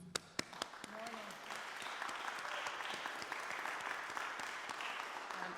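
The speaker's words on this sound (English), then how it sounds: "And applause." Audience applause welcoming a guest at a university horn festival masterclass, a few sharp early claps swelling into a steady moderate round of clapping from a modest-sized room.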